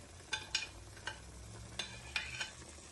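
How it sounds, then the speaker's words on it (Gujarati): A spoon clicks and scrapes against a pan in a few sharp taps while paneer, spinach, corn and cheese are stirred together, over a quiet low sizzle with no talking. "બધું નાખી અને એને એકદમ મિક્સ કરી નાખશું"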